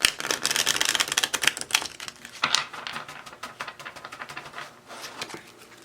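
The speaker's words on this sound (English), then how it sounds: "let's get your tarot cards and see." Tarot cards being shuffled, a dense run of quick papery riffles and flutters up close, with short pauses between bursts and no talking.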